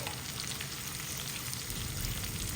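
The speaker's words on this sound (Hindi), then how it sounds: "अब ये प्याज भी इसमें डाल रही हूँ।" Medium-sized chopped onions sizzle in a pan for okra curry, a dense, constant frying hiss close up with no talk over it.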